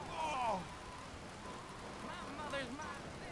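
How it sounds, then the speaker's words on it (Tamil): Steady rain hiss pours through a scene in the video game Grand Theft Auto 3, a soft constant wash with a few brief tonal game sounds and faint voice-like traces above it. "மழை பெய்யுது பார்த்தீங்களா இந்த கேமில்,"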